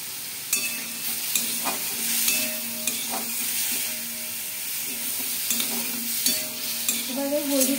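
Potatoes and pointed gourd frying with turmeric in a pan, sizzling steadily while a utensil stirs and scrapes in repeated sharp taps, close and fairly loud, with no voices.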